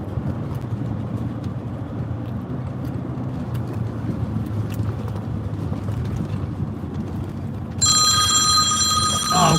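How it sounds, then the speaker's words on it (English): Phone ringtone chiming loudly inside a car on a road trip, breaking out near the end over steady road rumble and cabin noise. "I can't take all these phone calls"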